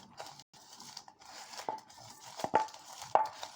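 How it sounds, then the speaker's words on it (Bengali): Chopped green chili and onion being mixed with salt by hand in a kitchen, quiet irregular squishing and crunching with a few sharper taps against a bowl. "আমি একটু লবণ দিয়ে মরিচ পেঁয়াজটা মেখে নেব।"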